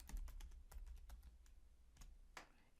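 Password being typed on a computer keyboard, a run of quick, light key clicks in an uneven rhythm with short pauses, close and fairly quiet, no talking.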